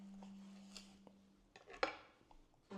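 A knife and fork work into a cooked wagyu flat iron steak on a plate, giving a few faint scrapes and light clinks of cutlery, quiet and close, with no talking.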